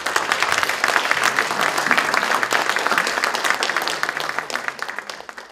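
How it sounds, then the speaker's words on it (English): Audience applause at the WCCW 20th anniversary ceremony, dense steady clapping from a crowd that holds strong for several seconds before thinning slightly at the end. "let's give applause to him"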